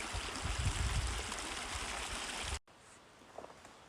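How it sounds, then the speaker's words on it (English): A desert creek on the Grand Enchantment Trail in the Withington Wilderness rushes steadily nearby, then cuts off abruptly to near silence with faint outdoor sounds. "I've been following this creek for, I don't know, quarter of a mile maybe."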